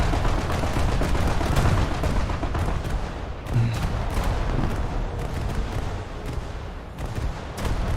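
Gunfire in a War Thunder naval battle, a video game: continuous heavy booming and rattling shots blend into a dense, loud roar with steady rapid bursts and no talk.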